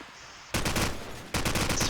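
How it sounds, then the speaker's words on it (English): Automatic gunfire in a Call of Duty 4 promod match, two loud rapid bursts with a short gap between them. "Let's fire off some shots, but it's all missing."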